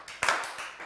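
A brief burst of studio audience applause on a Turkish word-game quiz show, with crackling claps swelling and fading within under a second.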